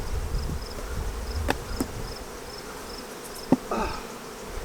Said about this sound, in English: There were a lot of bees.